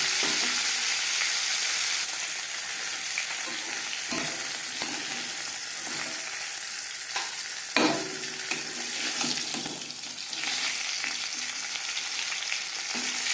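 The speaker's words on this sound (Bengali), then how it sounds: "একটা সাইড ভাজা হয়ে গেলে অপর সাইডটা উল্টে দেবো।" Fish frying in a pan for a Bengali fish curry with spring onions gives a loud, steady sizzle throughout, with a few soft stirring or scraping touches and no talking.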